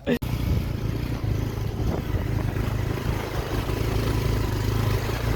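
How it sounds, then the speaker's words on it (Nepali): A motorcycle ridden along a road toward Lamjung gives a continuous, fairly loud engine drone with wind rush, and a voice talks over it. "पहिलोचोटि चाहिँ बाइक मैले चलाएको थिएँ, अहिले चाहिँ यसले चलाइरहेको छ"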